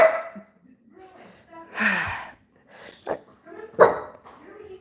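A dog barks in the background at home, a few sharp bursts spread across the stretch, while a person talks over and between them.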